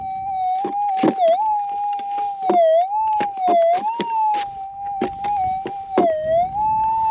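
A metal detector held over a small piece of gold in a goldfield gives off a continuous warbling tone that bends up and down in pitch, broken by sharp clicks and scrapes from the coil and ground nearby.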